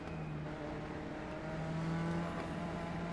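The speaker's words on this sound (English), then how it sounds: "Try and get those brakes warmed up." A steady, droning race car engine in the iRacing simulator hums at a constant pitch, fairly quiet and unbroken, with no speech over it.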